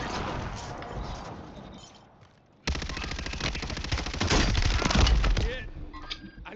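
Automatic weapon fire from Warzone 3 Plunder mode, dense rapid bursts of gunshots that drop out for a moment, then resume louder and closer, with voices talking over the action.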